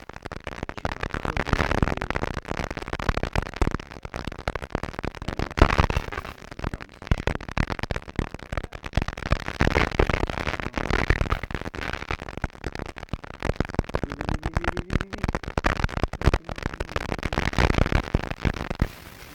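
A spaceship explodes in the Modern Combat 5 video game, heard as a long, dense crackling and rumbling barrage of bursts and pops that stays loud and continuous for nearly twenty seconds.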